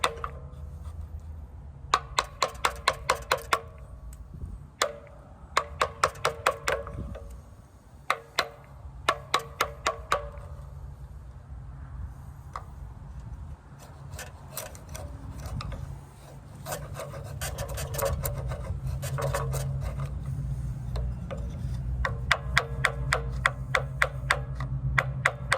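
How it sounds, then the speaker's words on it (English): A chisel scrapes and rasps against wood while carving a character figure, coming in rhythmic bursts of quick, close strokes separated by short pauses, with no voices. "I'm putting a little pressure on those runners now with the bigger chisel"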